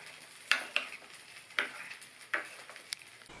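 Spoon stirring a garlic tempering into mashed spinach masiyal, with four or five distinct scraping strokes against the pan at an uneven rhythm over a faint background hiss, close by and without talk.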